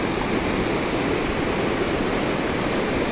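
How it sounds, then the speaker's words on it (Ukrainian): A mountain stream rushes through the Chemehivskyi canyon near Mykulychyn in the Carpathians, giving a steady, loud, broadband roar of water with no break and no voices. "Дивіться, який потік води."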